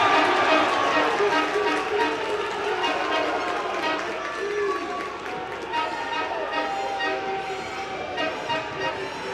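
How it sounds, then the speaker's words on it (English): Spectators at an under-23 wheelchair basketball world championship game between Brazil and Germany in Sao Paulo create a continuous, loud roar of crowd noise. A commentator talks over the crowd throughout. "The noise intensifies around Sao Paulo."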